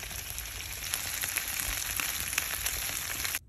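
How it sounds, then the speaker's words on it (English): Armadillo eggs frying on a barbecue: a continuous crackling sizzle with frequent small pops, moderately quiet and close, ending abruptly, with no talking. "I just wanted you to hear that sizzle."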